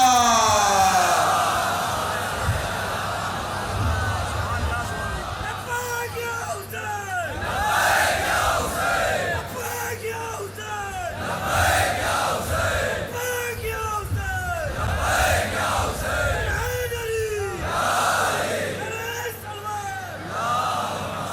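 Large crowd at a religious majlis gathering in Kanpur chanting salawat and shouting slogans in unison, loud repeated rhythmic waves of many voices alongside a single amplified voice over a steady hum.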